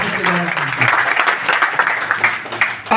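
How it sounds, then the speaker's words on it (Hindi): Loud, dense applause from a village crowd gathered to welcome the Deoria MP Ramapati Ram Tripathi rises close by and carries on throughout the moment, with voices heard over the clapping. "जोरदार तालियों के साथ सामूहिक रूप से स्वागत करता हूं"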